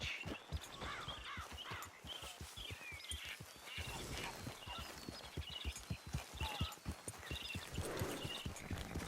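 Horse hooves clip-clop at a walking pace in the video game Red Dead Redemption, regular thudding steps heard fairly close, with faint bird and duck calls in the background.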